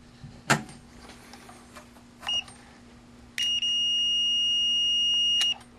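A Fluke 17B+ multimeter on continuity test gives a steady electronic beep of about two seconds, clean and close, after a few soft handling clicks.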